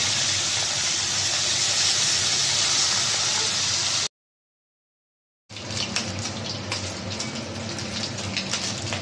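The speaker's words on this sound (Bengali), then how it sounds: "মাছগুলো ভেজে নিচ্ছি।" Bata fish fry in oil with a steady, close hiss of sizzling, broken by a brief silent gap before the crackling returns with sharper pops.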